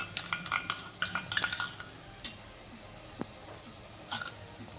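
Carrot halwa with cream added is stirred and sautéed in a pan. A spoon clinks and scrapes in a quick cluster of strokes, then single scrapes follow, all over a faint background hiss.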